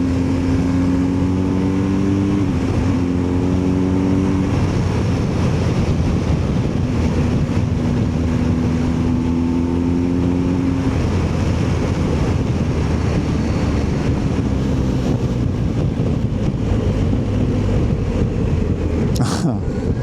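A BMW R1250 GSA motorcycle on the road, its engine droning steadily with gear-shift pitch steps and heavy wind rush throughout, loud and close, with no talk over it.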